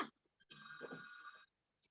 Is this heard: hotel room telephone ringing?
yes